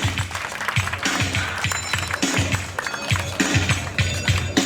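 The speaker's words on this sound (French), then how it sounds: "Mesdames et messieurs, applaudissements pour lui," An audience at an awareness-day event in Bouaflé claps in a lively, continuous patter. Rhythmic low thumps run through it, and a voice carries faintly underneath.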